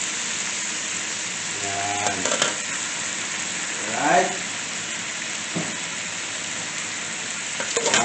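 Dried tuyo fish dropped into a hot pan of sautéed shrimp and mixed vegetables, raising a loud, steady close sizzle with brief scraping stirs and a voice speaking over the frying.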